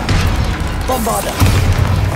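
A Bombarda explosion spell goes off in Hogwarts Legacy, a loud, deep boom with a second thump partway through amid ongoing game noise, with a brief voice heard over it.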